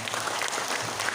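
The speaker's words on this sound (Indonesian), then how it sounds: "Tepuk tangan untuk kita semua." Applause from the gathered congregation at an Islamic religious gathering celebrating Indonesian Independence Day, a steady dense clapping that fills the whole short moment.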